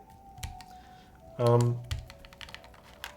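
Fingers type on a mechanical keyboard with PBT keycaps in a Block67 build, giving scattered crisp key clicks at close range, briefly joined by a short voiced sound partway through.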